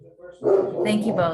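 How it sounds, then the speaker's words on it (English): Household dogs barking at a delivery driver out front, sharp barks rising behind a person speaking, loud and close, filling the second half of the moment. "I'm so sorry about my dogs."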